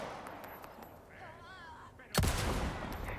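A single loud gunshot in Resident Evil 4 bursts out abruptly near the end, its ringing tail lingering briefly after a quiet stretch.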